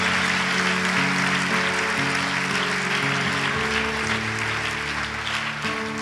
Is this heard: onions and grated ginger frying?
no